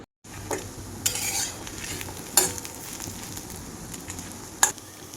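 Peanuts, coconut, cinnamon, pepper and cloves roast dry in a pan for masala, a steady rustling hiss broken by sharp metallic clinks and scrapes of a spoon against the pan at irregular moments.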